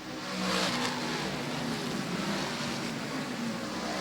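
Race cars roar off the fourth turn at Airborne Speedway in Plattsburgh, New York, engines accelerating as a steady distant drone with a slight swell, no talk over it.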